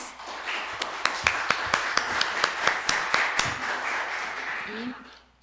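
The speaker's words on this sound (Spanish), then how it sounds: "quisiera pedirles que recibamos con un aplauso" Audience applause at an academic doctoral research colloquium, welcoming a speaker to the floor: a steady wash of clapping from a medium-sized room with several sharp individual claps standing out, fading away near the end.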